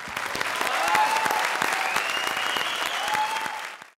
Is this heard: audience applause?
yes